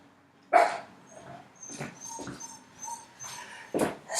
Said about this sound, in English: my dogs are barking because the twins are here